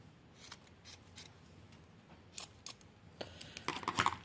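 Small scissors snip a few times while making a miniature beach house craft: light, close cuts in a brief irregular sequence that ends in a denser cluster of snips, with no talking.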